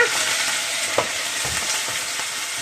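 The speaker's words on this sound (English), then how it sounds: "It's going to sizzle," Beef, onions and garlic sizzling in a pan on a gas hob, a steady bright hiss with a few soft stirring scrapes and clicks, close up and unbroken by talk.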